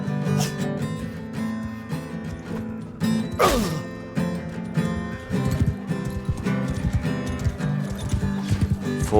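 Horse hooves clopping and a rising neigh from a mounted battle in Mount & Blade II: Bannerlord, the whinny standing out midway over a busy, continuous din of combat and movement.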